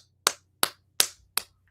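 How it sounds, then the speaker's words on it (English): Five sharp, evenly spaced hand claps from a single person, close and crisp, with silence between each clap and no talking. "I am giving a round of applause to that one, Ryan."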